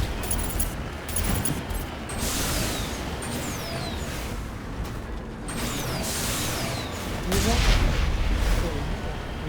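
Cannon fire in the video game Mass Effect, heavy booming shots repeating through a dense, continuous barrage of explosions and rumble, loud and close with a big blast near the end.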